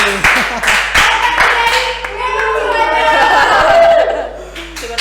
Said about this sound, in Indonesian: Benar banget, tepuk tangan buat Leoni.